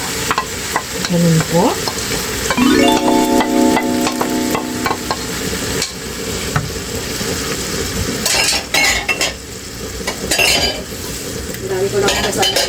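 Sardines with their sauce stirred into spicy sisig frying in a pan: a steady sizzle under repeated scraping and clinking of a utensil against the pan, close by, with people talking briefly.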